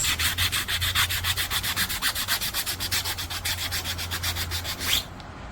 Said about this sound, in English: How much do you love sanding, Thomas?